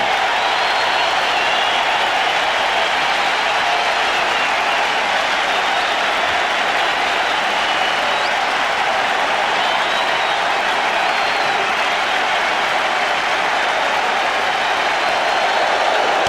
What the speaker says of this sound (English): And now the entire crowd up and at him yet again.